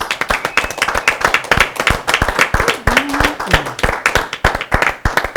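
Audience at a disco-themed show clapping for a singer, a dense run of many hands applauding near and loud for several seconds, with sharp individual claps standing out and a brief voice in the mix.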